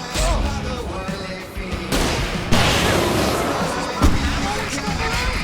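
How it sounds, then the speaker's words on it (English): Fireworks going off in the video game Alan Wake Remastered, a continuous loud barrage of bangs and crackling bursts with shouting voices and game noise layered over it. "I can set off more of the fireworks from here and help you out!"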